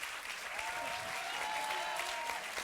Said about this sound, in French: J'aimerais d'abord qu'on les applaudisse tous